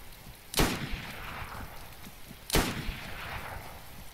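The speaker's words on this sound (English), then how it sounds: "I'm getting shot at." Video game gunfire: two sharp, loud gunshots about two seconds apart, each ringing out briefly over a low ambient background with no talk.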